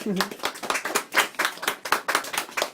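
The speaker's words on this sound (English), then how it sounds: "Yes, a great big clap." Children in a classroom clap together in a burst of quick, fairly regular claps, close and lively, with a voice briefly heard at the start.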